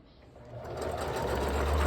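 A sewing machine stitches fabric, its motor whirring in a steady, building run that grows louder over a couple of seconds, with a faint voice in the background.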